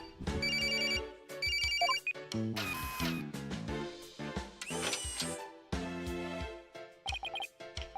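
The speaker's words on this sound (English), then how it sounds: "Oh, it's my Inspector Gadget's phone." Melodic electronic phone ringtone in the Ace Attorney Spirit of Justice video game, looping bright tonal chime phrases that play loudly and continuously for several seconds with no talking over it.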